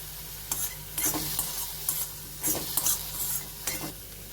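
Vegetables sauté in a pan with a little salt for millet soup: a soft background sizzle broken by a series of sharp spatula scrapes and stirs at uneven intervals.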